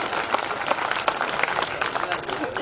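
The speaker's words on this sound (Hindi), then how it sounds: "एक बार पूरा सदन जोरदार तालियां लहरा के बजा दो" Applause from the audience at a Hindi comedy poetry show, a dense, steady patter of many hands clapping close by, with voices mixed in over it.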